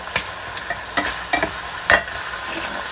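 Eggplant fries in a pan and is stirred, with a steady soft sizzle broken by a few clinking utensil scrapes against the pan. The sound is close and moderately loud, with no voices.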